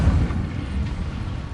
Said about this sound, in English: Incendio! Setting things ablaze is certainly cathartic, isn't it?